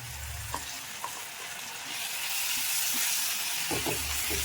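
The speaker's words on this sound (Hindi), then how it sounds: "इसे हम अच्छे से भूनेंगे ताकि इसका जो कच्चापन है वो निकल जाए।" Garlic, ginger and chili paste fries in hot oil in a pan for a Bihari aloo matar curry, a steady close sizzle swelling louder partway through, with a few soft stirring scrapes and no voices.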